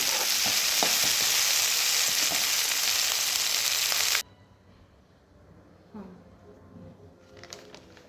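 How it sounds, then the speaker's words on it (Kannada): Loud oil sizzling with cinnamon and cloves frying for about four seconds, then it cuts to quiet with faint clinks and a brief voice. "ಚಕ್ಕೆ ಮತ್ತು ಲವಂಗ ಹಾಕ್ಕೊಂಡು ಚೆನ್ನಾಗಿ ಫ್ರೈ ಮಾಡಿ."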